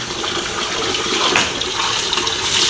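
Water gushes and splashes steadily, poured close by over a girl's back while washing her, loud and continuous with no talk.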